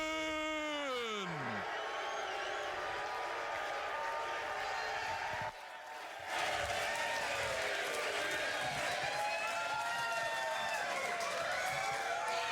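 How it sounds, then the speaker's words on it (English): A bowling crowd at PBA playoffs cheers and applauds, a loud, dense roar of clapping and shouts that dips briefly midway, then swells again and holds steady. "This crowd is very excited, guys, and for good reason."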